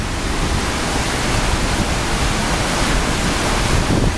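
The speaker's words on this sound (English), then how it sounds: "I can't describe the power of the waterfalls" A powerful waterfall in the Philippines roars as a dense, unbroken broadband rush, loud and close, with no talk.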